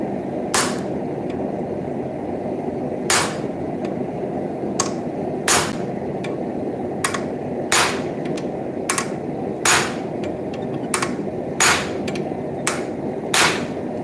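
Sharp, ringing hammer blows strike a rivet head formed from a railroad spike, about a dozen separate impacts at irregular intervals over a steady background hum.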